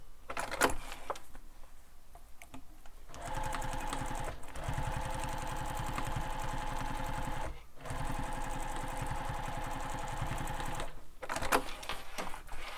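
A domestic sewing machine back stitching a backpack seam runs in steady, even bursts of rapid needle strokes, pausing briefly between runs, close and fairly loud with small handling clicks around the stops.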